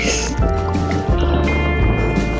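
Strong sea waves crash loudly onto a beach on a very windy day during beach-seine fishing, a heavy, continuous rumbling roar with surging swells, with voices faintly audible.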